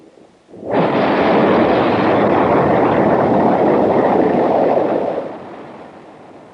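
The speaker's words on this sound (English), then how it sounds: "a 16-second static test of the S-1CT center engine was successfully conducted" A Saturn V S-IC test stage's center F-1 rocket engine roars during a static test firing, a sudden loud, broad rumble that starts abruptly, holds steady, then tapers off with no talking.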